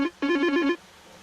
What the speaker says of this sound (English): I do believe the phone is ringing, Ted.